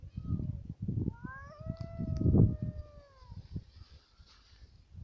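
A cat lets out a long, drawn-out yowling meow as cats fight over bread with a dog nearby, over scuffling, thumping noises, then the sounds fade toward the end.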